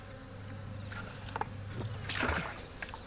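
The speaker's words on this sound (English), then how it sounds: "I got bumblebees and wasps" Bumblebees and wasps buzz around a nearly empty syrup feeder bucket, a steady droning hum near the microphone with a few louder passes and scraping handling noises.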